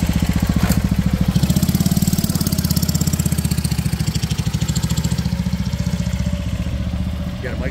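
A 1939 BSA M20 motorcycle rigged with a sidecar idles nearby with a steady, loud single-cylinder chug and rapid even firing pulses throughout, and faint voices sit underneath.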